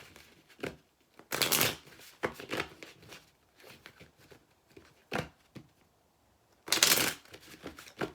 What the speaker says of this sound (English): Let's use some tarot cards.